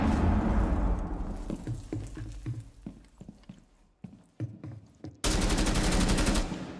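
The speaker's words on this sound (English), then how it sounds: "You shoot Vigil in the face." Automatic gunfire in Rainbow Six Siege rattles loudly at the start, gives way to scattered shots and thuds, then returns as a sustained, close burst of rapid fire at the end.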